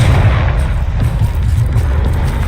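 A Confringo fire-blast spell explodes in Hogwarts Legacy, giving a steady, loud low-end rumble of booming blasts that runs the whole moment without a clear single peak.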